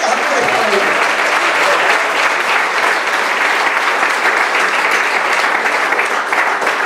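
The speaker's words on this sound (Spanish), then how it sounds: "Dele palmas fuertes a Cristo." A Pentecostal church congregation claps loudly for Christ, a continuous, dense wash of many hands beating together, steady and full throughout with no break, filling the room.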